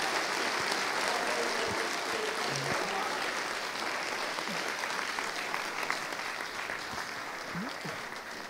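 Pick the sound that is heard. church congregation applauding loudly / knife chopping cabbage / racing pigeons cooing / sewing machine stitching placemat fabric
church congregation applauding loudly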